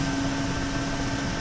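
Steady, loud turbine whine and rotor drone of a Mil Mi-8 helicopter in a flight simulator game, running continuously after startup with no talk over it.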